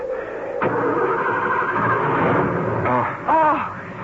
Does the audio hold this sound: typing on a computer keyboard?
no